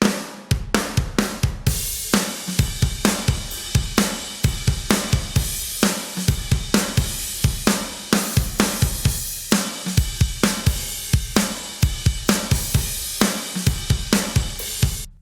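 Emo and pop punk drums, mixed with the room tracks brought in: fast, driving kick and snare hits under a wash of cymbals, loud and steady throughout, with no voices.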